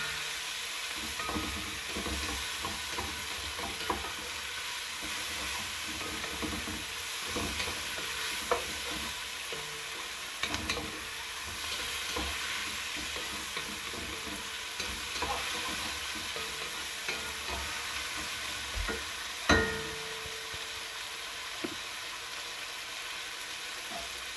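Spanish rice with beef bouillon being stirred in a pan over heat, a steady frying sizzle with scattered scraping stirs and occasional louder clinks, no voices.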